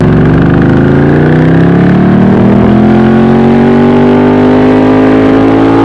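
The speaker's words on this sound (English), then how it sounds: "leading to the somewhat offbeat exhaust note that sounds quite a bit more contemporary than the big loping Harley V-twins" A 90-degree V-twin motorcycle engine runs close and loud, its offbeat, uneven exhaust pulse steady as the revs climb gently and hold, with no talking over it.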